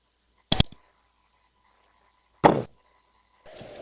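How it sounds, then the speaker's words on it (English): A blind man's walking stick taps in the video game Nethergate. There are three sharp, isolated knocks spaced about a second or two apart in near silence, each crisp and close. "Gets up and starts to shuffle his way north,"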